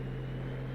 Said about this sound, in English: An airport is a place where airplanes land and take off.